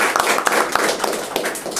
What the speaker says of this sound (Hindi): क्यों ना हम परमेश्वर के लिए जोरदार ताली बजाते हैं।